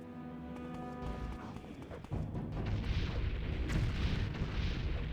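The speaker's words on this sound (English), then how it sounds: "Maybe it's those big explosions that are killing me" Deep booming explosions in the Morrowind video game, a rolling burst of heavy rumbling blasts that swells after a short quieter stretch and stays loud to the end.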